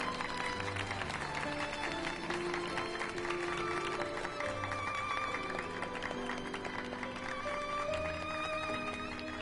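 Clapping rings out in a Final Fantasy cutscene, a light continuous patter of hands beneath swelling orchestral music, moderately distant and steady throughout.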